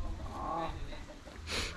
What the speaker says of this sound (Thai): เฮามาเอาไก่ที่จินดาเพิ่นเอาให้แล้วแหละ